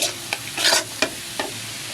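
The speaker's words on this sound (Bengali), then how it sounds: "পেঁয়াজটা যখন আমার বাদামি কালার ভাজা হয়ে যাবে" Onions sizzling in hot oil as they fry to brown for Bengali masoor dal, with a few quick scraping stirs of a spatula over a steady close hiss.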